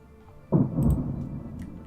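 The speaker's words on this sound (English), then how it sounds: "I hear you, Thunder." A sudden low rumble of thunder rolls in after a quiet stretch and fades slowly, deep and fairly loud, over faint background music.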